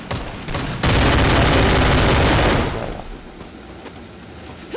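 Gunfire in the Free Fire Clash Squad mobile game with an MP5 and M4A1, a dense, loud burst of shooting that holds for about two seconds before fading into quieter game ambience.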